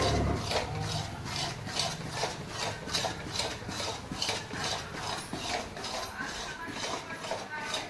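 A wooden or metal spoon stirs thick adadiya sweet in a pan, scraping the bottom in a steady repeating rhythm of close rasping strokes, with people talking over it.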